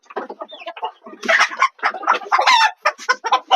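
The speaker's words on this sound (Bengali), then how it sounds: "এটা হচ্ছে লেয়ার টাইপের মুরগি" Layer hens cluck and squawk close up in a busy, uneven series of loud calls, some rising into sharper cackles.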